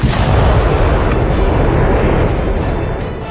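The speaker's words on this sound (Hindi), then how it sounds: "लेकिन तब तक धमाका हो गया" A magnet bomb explosion on a car, captured by CCTV street footage, appears as a loud, broad, continuous roar that begins at full strength and slowly tails off over a few seconds, with no talk.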